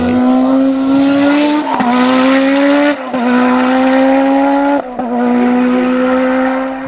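Brabham BT52 Formula One car with a turbocharged 1.5-litre BMW four-cylinder engine, screaming loud and close in sustained high-pitched pulls, cut by three sharp gear changes at even intervals, with no talk.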